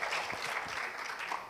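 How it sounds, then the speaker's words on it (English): Audience applause at a talk by Karan Oberoi, a dense steady wash of many hands clapping together for the whole moment, fairly loud and close with no voices over it. "Please have a big clap for her."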